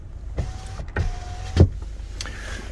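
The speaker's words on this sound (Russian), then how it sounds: "Я могу открывать окно." An electric power window on a Chery Tiggo 7 Pro runs in short motor whirs inside the cabin, with a few soft clicks between runs, close and fairly quiet.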